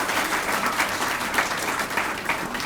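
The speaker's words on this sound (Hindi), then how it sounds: "इनके लिए एक ज़ोरदार तालियां प्लीज़ अगर हो जाए" Audience applause fills a hall at a national moot court competition at AMU Aligarh, a dense, steady burst of many hands clapping at once, sustained evenly from start to finish with no talk over it.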